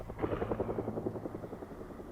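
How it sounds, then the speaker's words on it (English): Helicopter flying over in the Project Zomboid video game, a rhythmic chopping rotor thump that fades steadily as it moves away, heard alone. "yeah, Chopper's gone."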